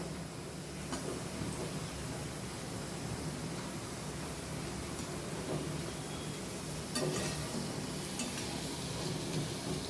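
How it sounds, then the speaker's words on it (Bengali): Potato pieces frying in oil give a faint, steady hiss and light crackle throughout, close by and without talking. "আলুটাকে প্রথমে লাল লাল করে ভেজে নেওয়া হবে।"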